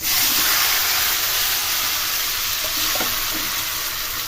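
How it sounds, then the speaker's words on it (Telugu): Tomatoes roasting in a hot kadai give a steady, close sizzling hiss that runs unbroken, with a few faint stirring knocks partway through. "మళ్ళీ కడాయి పెట్టి ఈ టమాటా కూడా దాంట్లోనే రోస్ట్ చేసుకోవాలి"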